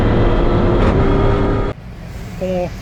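A truck with an LS engine and a sequential transmission, run by an FT600 controller, roars loudly and steadily, then cuts off sharply and settles to a lower rumble.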